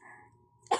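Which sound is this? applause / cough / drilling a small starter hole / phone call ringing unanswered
cough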